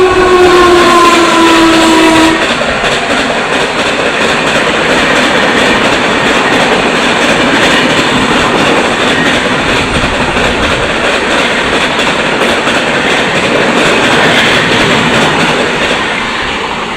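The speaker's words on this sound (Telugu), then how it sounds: "దగ్గర మాలండి ట్రైన్లు, పెద్ద పెద్ద సౌండ్లు అండి బాబు" A train thunders past on a railway track close to a house, opening with a long horn blast and then a loud, sustained roar and rattle of wagons that continues to the end.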